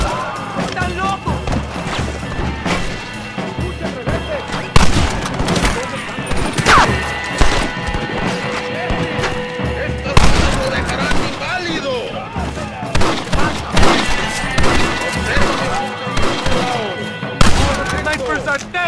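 A Red Dead Redemption firefight: loud, repeated gunshots crack out in irregular bursts, with several heavy hits standing above a constant clatter of battle noise, and shouted voices come through between the shots.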